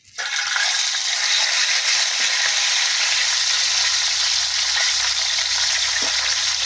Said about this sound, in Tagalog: Prito ng isda.